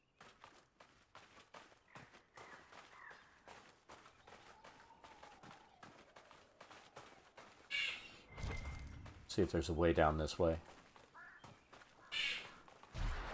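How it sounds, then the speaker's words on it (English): A bird in Dragon Age: Inquisition caws and shrieks harshly in a burst near the end over steady in-game footsteps and ambience. A person talks briefly early on. "That damn bird just screaming like she's crazy out there."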